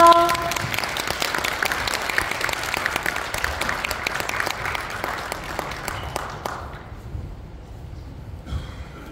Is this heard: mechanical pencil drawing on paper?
no